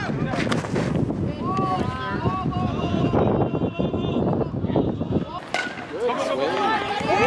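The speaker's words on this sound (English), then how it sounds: "It was so windy and so cold." Strong wind buffets the microphone in a constant roaring rumble, with a voice talking faintly underneath.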